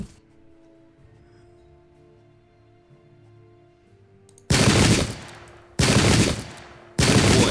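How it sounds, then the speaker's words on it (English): Pike and shot units fire musket volleys in a game recreating the 1650 Battle of Dunbar: three loud, close bursts of crackling gunfire in quick succession after a few seconds of quiet battlefield ambience. "Have the pike and shot units keep firing."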